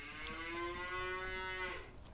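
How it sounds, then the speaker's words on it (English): Cattle in the Farming Simulator 19 video game let out a single drawn-out moo, clear and steady, fading at the end over a quiet background. "The cows are doing wonderful."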